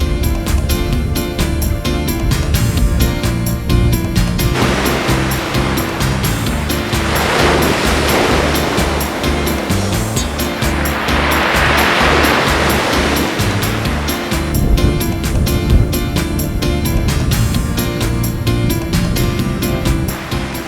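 Sea waves rolling against the cliffs near Fécamp, a loud, continuous roar of surf with swelling surges, mixed with wind buffeting the microphone.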